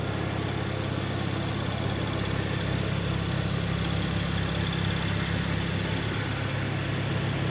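A 2011 Porsche 911 Turbo Cabriolet engine idles steadily at close range, a smooth, even low hum with a faint vibration that continues unchanged throughout, with no speech.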